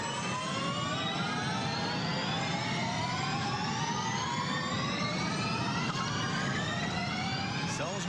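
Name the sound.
Formula E race cars' electric motors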